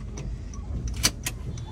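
A car carrying passengers is driven through the streets of Gurgaon, a low steady engine and road rumble filling the cabin, with a few brief clicks and rattles from inside.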